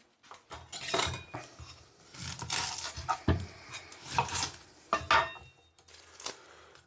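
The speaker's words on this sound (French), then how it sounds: "Peler les oignons, rincez-les, séchez-les, émincez-les." Onions sliced with a knife on a board, giving a series of quick, crisp cuts and scraping strokes at close range, quiet and fairly steady with brief pauses.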